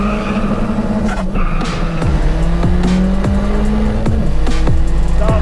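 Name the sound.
Daewoo Matiz with new turbo accelerating on a drag run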